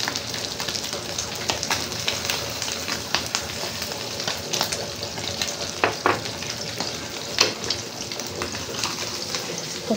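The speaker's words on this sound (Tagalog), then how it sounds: "nakapagisa na tayo ng bawang, sibuyas, saka luya" Garlic, onion and ginger sautéing in a pan, a close crackling sizzle with irregular scraping and stirring knocks throughout, and no talk.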